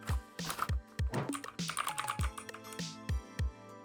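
Rapid clacky typing on a budget 60% mechanical RGB keyboard with blue switches, sharp close keystrokes in an uneven rhythm with a few heavier thocks, no talking.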